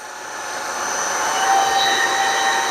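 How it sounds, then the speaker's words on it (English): A milling machine runs at about 600 RPM, giving a steady, close mechanical whine and hum that swells slightly in loudness and holds without a break, with no voices. "Gonna get noisy, guys, same as it always does. Running at about 600 RPM."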